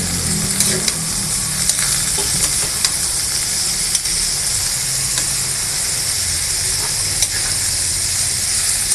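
Bean sprouts stir-fried with sweet potato and carrot, a loud steady sizzle with repeated scraping strokes of a spatula against the pan throughout.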